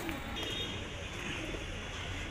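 Borderwale Gulabsare pigeons cooing softly and continuously at close range, a steady murmur of low coos under a broad background hiss.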